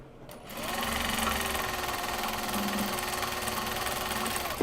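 A sewing machine runs in one continuous fast burst, a close, steady whirring rattle that sews the closing seam of a small box bag and then stops with a short clack.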